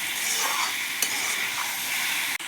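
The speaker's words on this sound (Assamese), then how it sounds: "মছলাখিনি লাগি যোৱাকৈ অলপ সময় ভাজি ল'ম।" Pork pieces fry with spices in a pan while being stirred, giving a close, steady sizzle with a sharp utensil knock near the end.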